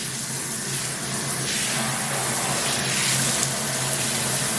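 Water pours steadily from an Artiqua freestanding bathtub faucet tub filler, a constant gushing rush heard close up with no talking.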